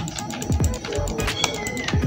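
A house cat meows during a game session, a few short close cries over steady keyboard tapping and background noise.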